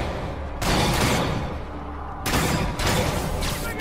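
Sniper gunfire in Marvel's Spider-Man Remastered: two heavy, loud cracking blasts with long rumbling tails, separated by a quieter stretch of game ambience.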